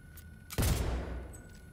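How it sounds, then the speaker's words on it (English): A single sharp, booming shot from an Ajax assault rifle in the video game Cyberpunk 2077, loud and close, with a low rumbling tail that fades over about a second. "Ajax assault rifle is pretty sweet."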